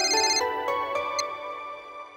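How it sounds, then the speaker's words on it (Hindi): A phone ringtone plays a bright, melodic electronic tune with a few sharp chiming notes, clear and close, in a quiet household room. "पापा आपका फोन बज रहा है।"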